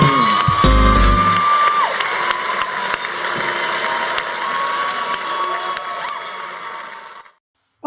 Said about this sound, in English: Oh, the clapping is just tremendous.